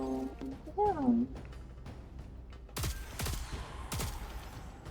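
A Destiny 2 hand cannon fires several sharp, loud single shots spaced about half a second apart, following a stretch of talking and brief game effects.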